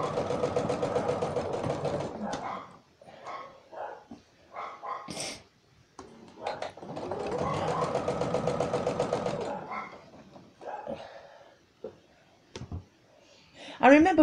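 Sewing machine stitching a zipped twin-sided pouch: two sustained bursts of steady, close mechanical whirring, one near the start and a longer run mid-clip, with pauses, soft handling clicks and brief talk between.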